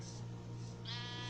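A sheep in the Minecraft PE video game gives a short bleat over a steady electronic background hum, fairly faint with no talking.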